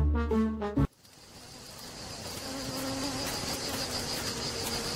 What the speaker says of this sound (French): des abeilles s'apprêtaient à quitter leur ruche en bourdonnant